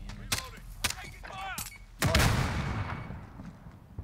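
Gunfire in the Modern Warfare 2019 video game: a few sharp shots early, then a loud booming burst with a long decaying rumble, with voices briefly heard in between.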